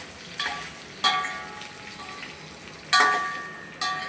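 Chopped patra is stirred and mixed in a pan, with four bursts of scraping and sizzling over a steady low background frying hiss.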